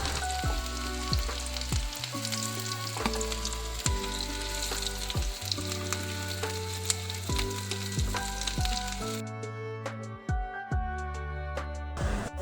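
Cauliflower frying in hot oil, a steady close sizzle running throughout with scattered crackles and pops, continuing alone without talk.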